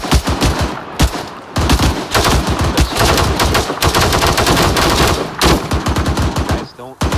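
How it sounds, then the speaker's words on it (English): Loud sustained automatic gunfire in the Arma 3 military game, continuous close bursts of rapid shots with brief gaps between them. "Guys, don't auto fire like that"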